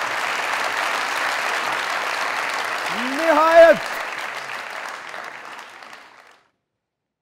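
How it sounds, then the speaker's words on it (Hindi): Loud, steady applause from a studio audience at a comedy talk show, sustained for about six seconds before stopping abruptly. Partway through, a voice speaks briefly over the clapping. "जोरदार तालियां जरा।"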